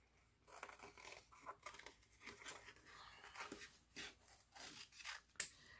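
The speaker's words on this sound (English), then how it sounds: "my scissors to cut them out." Scissors fussy-cut stamped paper pieces for card making, giving a close, quiet run of soft snips and papery rustling and rubbing, with a sharper click near the end and no talking.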